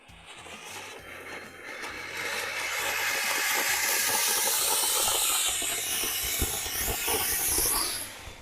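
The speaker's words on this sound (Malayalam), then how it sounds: "നമ്മൾ മേശപ്പൂവിന് തിരി കൊടുക്കാം" A lit table firework fountain sprays sparks with a loud, steady hiss that swells in the first seconds, holds with crackling texture, then fades at the end.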